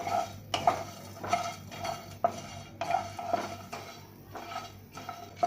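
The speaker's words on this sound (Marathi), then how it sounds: "परतून घेऊया आता या वस्तू आहेत ना आपल्याला तीन ते चार मिनिट आपल्याला परतून घ्यायचं आहे" Whole spices for homemade garam masala are dry-roasted and stirred in a pan. A utensil scrapes and clinks against the pan in a steady rhythm of repeated strokes, heard close and fairly quiet.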